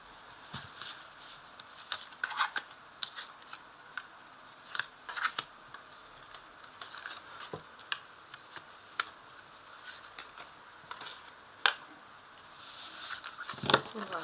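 Tarot cards being drawn and laid out one by one: soft paper slides, flicks and light taps against a table, scattered irregularly and fairly close, with quiet stretches between them and a brisker burst of handling near the end.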